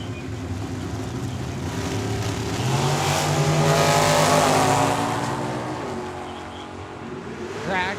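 A dragster and a green Chevrolet Nova with flames launch down a Tucson drag strip, engines roaring loud and rising as they accelerate, swelling to a peak mid-run before easing off as one shuts down.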